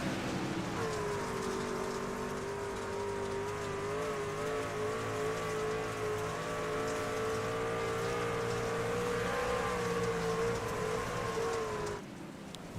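Race cars circle the Knoxville dirt track at a November Nationals event, a continuous high engine howl rising and falling slightly over a hiss of noise, fairly distant and sustained, dropping off near the end.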